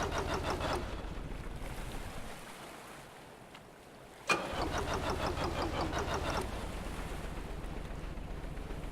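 A boat engine in the video game Stormworks runs with a steady rhythmic chug, cuts out into near quiet, then sputters back to life with a sudden burst and settles into a steady running throb.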